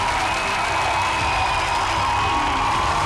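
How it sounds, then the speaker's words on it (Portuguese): A TV talent show audience at The Voice Kids claps and cheers in a loud, continuous wash of applause with scattered whoops, steady throughout. "Um forte aplauso para as nossas meninas."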